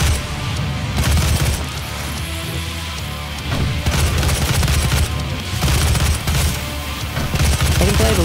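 Heavy gunfire in DOOM rattles in dense bursts, loud booming shots and crashing impacts piling up with short pauses, against a thick, grinding game soundtrack.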